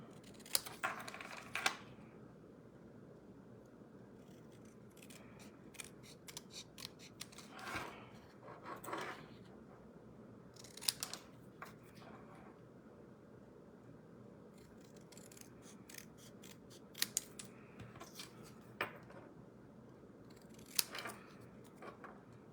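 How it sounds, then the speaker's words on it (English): Scissors cut out paper card pieces for a stamped craft project, giving quiet, close snips in irregular bursts with soft rustles and short pauses between the cuts. "We are going to cut these ones out."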